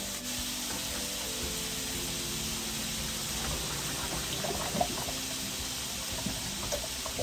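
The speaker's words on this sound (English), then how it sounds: "I'm going to take them over to the sink and drain them." Boiled potatoes drained in a kitchen sink, water pouring and splashing steadily into the basin in a constant rushing hiss with faint clatter, no talking.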